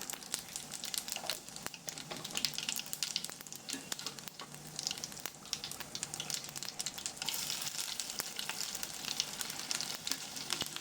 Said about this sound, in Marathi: तेल गरम झाले की त्यात अर्धा चमचा मोहरी, अर्धा चमचा जिरे घाला व थोडे हिंग घाला